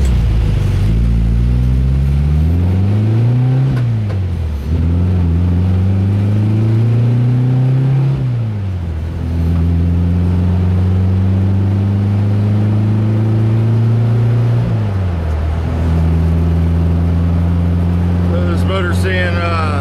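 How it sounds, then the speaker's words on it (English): A city bus engine on the 71 route revving hard at high RPM, a loud, steady drone that climbs and falls in pitch as it shifts through gears, heard from inside the bus. "Seeing quite a bit of RPM all the time in this bus."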